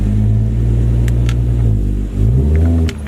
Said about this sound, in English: I'm just gonna back up till my car's on top of it, see if it snaps